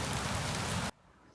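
Rain falls steadily in the Pecos Wilderness mountains after a hailstorm, a dense close patter that stops abruptly partway through, leaving quiet background.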